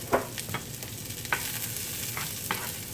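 Chopped garlic and cabbage sautéing in a pan, a soft continuous sizzle broken by a few scraping stirs of a utensil.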